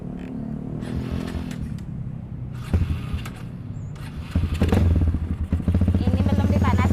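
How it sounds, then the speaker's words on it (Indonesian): A supermoto motorcycle fitted with an original Over Japan exhaust runs from a cold start: a steady rumbling idle, then louder, harder revving near the end, all close by. "Knalpotnya ini kita pakai yang over Japan original. Coba kita cek sound dulu ya."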